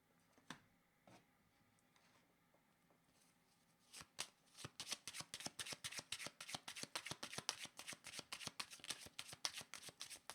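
A deck of playing cards is shuffled close by, with a few isolated card snaps at first and then a rapid, steady run of crisp riffling flicks that carries on to the end, with no talk.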